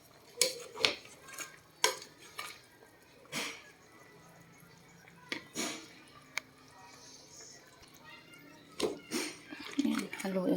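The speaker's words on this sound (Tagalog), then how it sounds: "Ayan, haluin ko lang guys." Lechon paksiw made from a pig's head is stirred in a pot with its sauce, giving scattered scraping and clinking knocks of a spoon against the metal pot, while a person talks over it.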